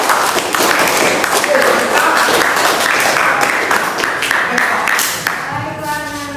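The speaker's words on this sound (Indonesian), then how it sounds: "beri tepuk tangan untuk kelompok 2" Classroom applause for a student discussion group during a teaching assessment session in Indonesia, a steady wash of many hands clapping for several seconds, fading toward the end.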